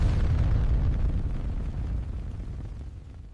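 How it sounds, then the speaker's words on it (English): Loud explosion sound effect for a giant rat bursting apart: a heavy deep boom at onset that rolls on as a rumbling blast and slowly fades over a few seconds. "Without structural changes, a giant rat would explode."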